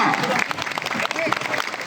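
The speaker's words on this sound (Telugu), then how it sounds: "చప్పట్లు గట్టిగా గట్టిగా" An audience applauds a performer after a fire-ring act in Vijayawada. The clapping is dense and sustained, and a voice talks over it.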